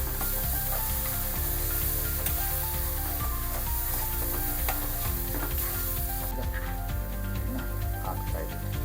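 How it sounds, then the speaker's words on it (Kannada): Ingredients for egg sambar fry loudly in a pan, a dense continuous sizzle with repeated stirring scrapes and clinks throughout. "ಸ್ವಲ್ಪ ಫ್ರೈ ಮಾಡ್ಕೊಳ್ತಾ ಇದ್ದೀನಿ."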